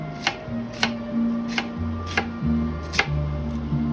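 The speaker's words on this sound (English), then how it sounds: "Cut up your onions" A knife chops onions on a board for hot dog sauce, with sharp evenly spaced cuts about every three-quarters of a second, close and distinct over a continuous low hum.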